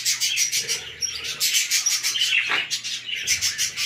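Three baby birds in a nest in an aviary cage, rapid high chirps repeating almost without pause, close and loud, with a faint rubbing rustle underneath.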